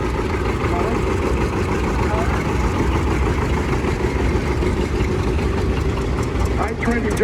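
A John Deere 820 tractor engine idles steadily at a tractor rally, a close, continuous low rumble that holds an even pitch throughout.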